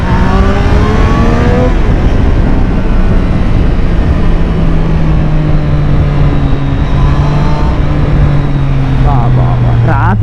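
A 2024 Triumph Street Triple 765 R ridden in Rider mode pulls hard on the road, its loud engine note rising and falling through gears with heavy wind rush, heard from the rider's position.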